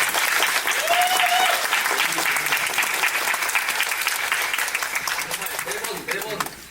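Audience applause rings out at a musical's stage greeting, a dense wash of clapping from a crowd that gradually thins, with a voice briefly heard over it.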